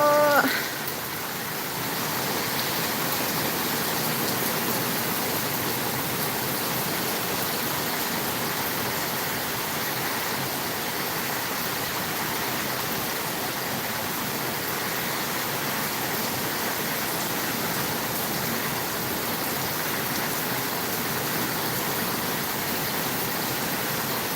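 Steady rain falls without a break, a dense, even hiss that holds at a constant level throughout, with no voices over it.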